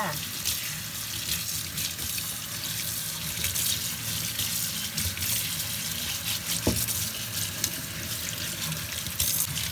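Raw beef liver is rinsed under a steadily running kitchen tap, a continuous close splashing rush of water into a sink lasting throughout with no voices.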